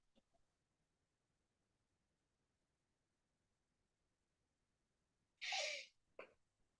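After a long near-silent stretch, one sharp, loud sneeze bursts out close by, followed by a short breathy catch.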